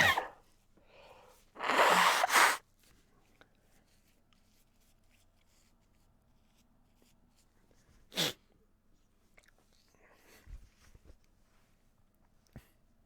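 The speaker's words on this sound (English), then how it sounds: "I'm about to sneeze" A single loud, close sneeze bursts out early, followed by long quiet with a few faint rustles and small clicks.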